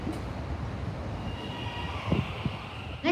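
A Melbourne suburban train runs between Oakleigh and South Yarra, heard from inside as a steady rumble with a few wheel knocks and brief squeals toward the end.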